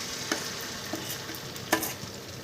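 Sesame seeds crackling in hot oil in a pan while making handvo, a soft continuous sizzle with a few sharp pops standing out, close and fairly quiet, with no talk.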